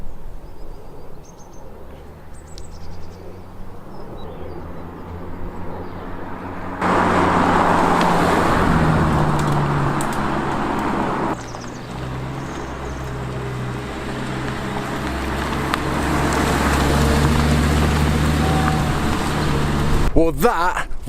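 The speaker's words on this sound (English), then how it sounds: "Epic drive, and so good to be behind the wheel of an Audi R8, the V10 model with carbon ceramic brakes and an R-tronic gearbox." An Audi R8 V10 with carbon ceramic brakes and an R-tronic gearbox is being driven, giving a steady engine drone and road roar that swell partway through under ongoing talk.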